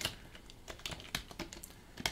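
Quick bursts of computer keyboard typing as a Linux sudo nano command is entered, a dozen or so sharp, close key clicks in uneven clusters, fairly quiet.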